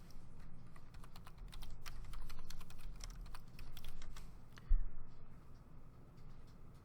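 Rapid keystrokes on a computer keyboard as a search term is entered, irregular clicking bursts over a low steady hum, with one louder thump near the end.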